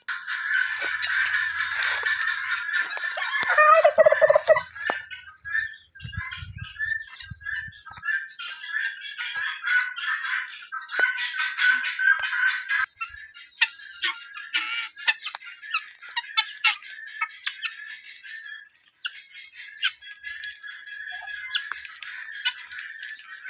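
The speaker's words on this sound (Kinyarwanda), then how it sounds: "Iyi ni dendo iri gutemberana n'imishwi y'inkanga, ariko ino mishwi imaze gukura" Guinea fowl, a hen roaming with her grown chicks, keep up a loud, continuous chorus of harsh, rapid chattering calls close by throughout, with brief pauses and bursts of overlapping cries.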